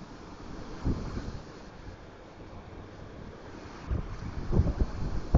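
Strong wind gusting around 75 mph in southeastern Oklahoma roars into the microphone, a steady low rush with heavy buffeting bursts that build louder toward the end.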